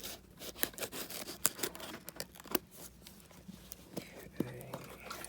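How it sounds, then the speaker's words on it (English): Scissors snipping at the plastic packaging of a Smart Doll during unboxing, giving a string of sharp, irregular clicks and cuts close by, with rustling in between and a short tonal sound near the end. "These scissors aren't working very well."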